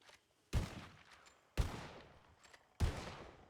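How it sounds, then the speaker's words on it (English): Three rifle shots fired one after another at a scarecrow target in a Western role-play video game, each a sharp, loud crack followed by a short fading tail, spaced about a second apart. "I just want you to fire 3 shots into it with your rifle."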